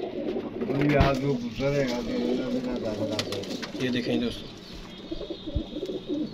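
Pigeons, including the Commander breed, coo in soft, repeated low throaty calls close by, while someone talks over them.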